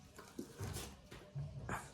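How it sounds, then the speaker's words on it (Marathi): A dog makes faint, soft whimpering sounds in a few short bursts against a quiet background. "खोडीचं कुत्रे"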